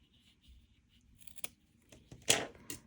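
Scissors trim excess material off a ball a few times up close, quiet sharp clicks with one louder cut near the end, in an otherwise quiet room.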